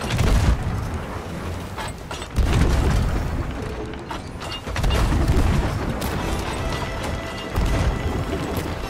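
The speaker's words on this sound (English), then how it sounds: "I'm hitting them off right cannon" Ship cannons fire in the Sea of Thieves video game, with three heavy booming blasts spaced a couple of seconds apart over a busy rumbling background.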